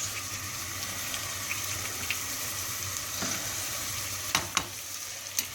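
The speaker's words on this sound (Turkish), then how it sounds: "Çorbamız şöyle hala kaynıyor." Steady bubbling and sizzling of soup simmering in a pot close by, with a few sharp clinks near the end; no talking.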